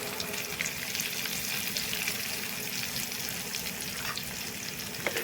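Cumin seeds, curry leaves and coriander sizzle steadily in a hot pan for tomato chutney, a close continuous frying hiss with faint stirring and no talk.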